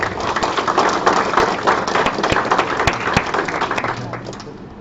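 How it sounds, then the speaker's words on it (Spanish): Applause from a conference audience welcoming a speaker at a criminal law lecture, a burst of clapping with a few sharp individual claps, tapering off toward the end. "Recibimos con un fuerte aplauso"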